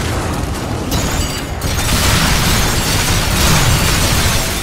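Reactor explosion in the video game Warframe: a sustained, loud rumbling roar that swells after a brief dip and keeps booming steadily to the end, with no voices.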